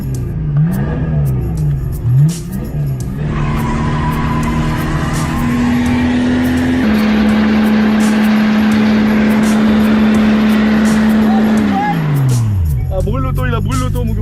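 A diesel car engine with an unstable idle is fed extra fuel, climbing into a long, loud, steady high rev that holds for several seconds and then winds back down, with the idle wavering before and after.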